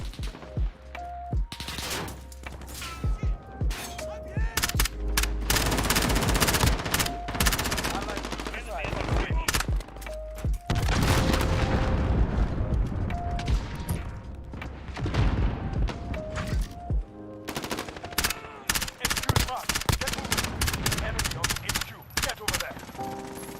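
Dense video game gunfire during a multiplayer match with a headquarters objective, rapid machine-gun bursts and single shots overlapping almost continuously with thuds and booms, loud and close, with a voice talking intermittently over the battle.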